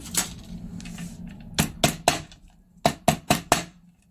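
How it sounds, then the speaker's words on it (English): A hammer bangs down a metal washer on a magnetic bag closure: a lone knock, then a quick triple strike and a rapid run of four sharp, close, ringing hits. "I'm just going to use my hammer"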